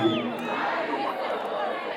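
A festival crowd at a Rwandan music event in Muhanga cheers and shouts loudly and steadily, a dense wash of many voices sustained throughout.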